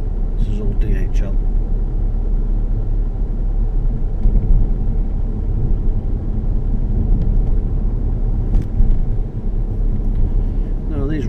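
A car drives through the grounds of East Midlands Airport with a steady low road rumble and engine hum from inside, while a voice speaks intermittently over it.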